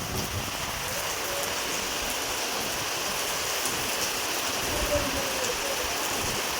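A steady, dense roar of heavy, wind-driven rain pours down without a break, loud and even throughout, with no voices.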